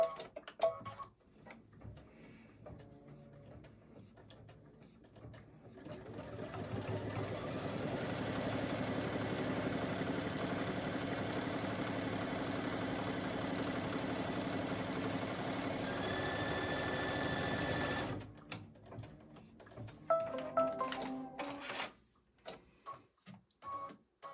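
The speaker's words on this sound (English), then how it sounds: "It's now going to stitch. Can you see that? Yeah, it's just going to stitch this tack down line all the way around." An embroidery sewing machine runs a tack-down line around a quilt block in the hoop, a steady rapid whirring hum that starts after a few seconds, holds for about twelve seconds, then stops, with faint handling clicks before and after.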